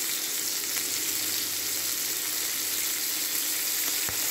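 Lardons fry in a pan with a dense, steady crackling sizzle, loud and close throughout, with a faint knock near the end.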